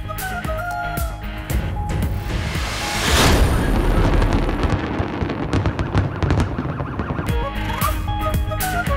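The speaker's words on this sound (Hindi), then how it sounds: "सऊदी अरब के कौमी दिन पर साहिली शहर जद्दा में आतिशबाजी का शानदार मुजाहरा" Fireworks burst over the Jeddah coast on Saudi National Day: a loud burst of crackling and popping swells midway and continues, mixed with car alarms and sirens sounding before and after.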